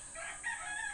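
A rooster crows once at a chicken coop on a windy morning, the brief call somewhat distant and fairly faint over a steady airy hiss.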